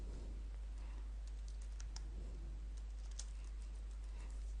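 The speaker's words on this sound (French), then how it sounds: "on peut taper du texte directement sur la page" Soft keystrokes tap at an uneven pace on a computer keyboard as text is entered, faint clicks over a steady low hum.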